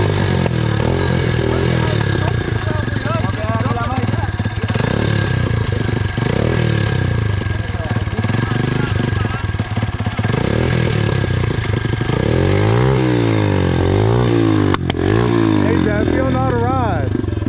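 Motorcycle engine on a group pack ride, kick-started and then revved in rising and falling bursts toward the end, heard close and loud beneath steady background noise while several people talk and shout over it.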